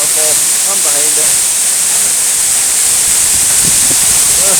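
Heavy, continuous rush of Eas Mor waterfall from behind the falling water, loud and hissing like steam, with someone speaking faintly under the roar at the start.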